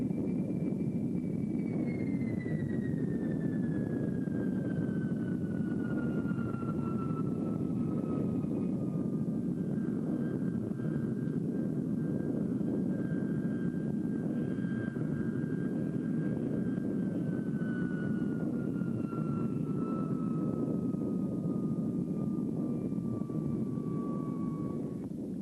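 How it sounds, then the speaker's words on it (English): Avro Jetliner aircraft coming in to land, its engine drone a steady, continuous roar with a slowly falling whine layered on top, sustained and fairly loud for the full length, no voices. "the jetliner came in for a perfect landing"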